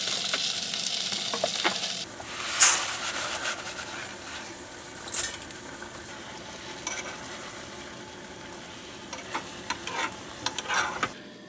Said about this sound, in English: Onions have glazed a bit. They're now starting to brown, so now we're gonna add all these cherry tomatoes.